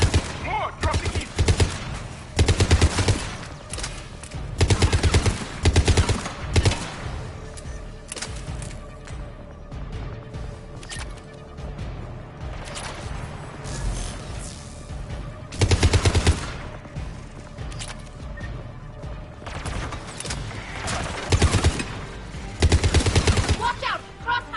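Repeated bursts of automatic gunfire and crossfire in Mass Effect 3, loud rattling volleys that come in clusters with quieter gaps between them and a steady game hum underneath.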